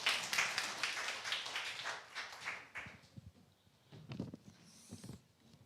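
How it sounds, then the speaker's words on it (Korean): A church congregation applauds, dense clapping at first that thins into scattered, fading claps and a few taps before quiet. "박수 한번 주시기 바랍니다"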